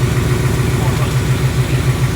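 A 2018 Ford Mustang idles close by with a steady, throbbing engine rumble and a faint rhythmic clicking within it, while people talk over it.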